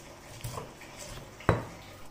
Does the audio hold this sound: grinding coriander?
yes